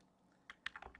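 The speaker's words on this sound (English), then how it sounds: "this mouse just double clicks when it feels like it" A Logitech computer mouse clicks several times in a quick irregular burst, small sharp taps close and fairly faint against a quiet room, one pair landing almost together like a double click.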